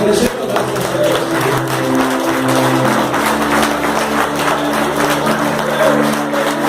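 A church congregation at a prayer service claps together in a sustained, even round of applause, with a held musical tone sounding underneath throughout.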